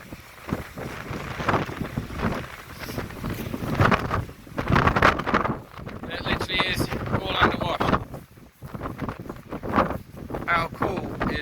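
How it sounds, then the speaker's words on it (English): Strong wind on a steep Falklands coastal clifftop buffets the microphone in loud, gusting rumbles, with a person speaking under the roar throughout. "Sorry about the wind, but being that we're on a coast, if we're in the Falklands, why wouldn't you get wind?"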